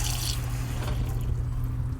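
Water runs steadily from a repaired RV faucet fed by the onboard pump, a continuous trickling and splashing close by with a low pump hum beneath, no talking.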